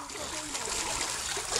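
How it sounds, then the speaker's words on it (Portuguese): A dog dives into a swimming pool, a close splash and churning water under a brief voice. "A Felícia deu um mergulho e foi pro chuveiro."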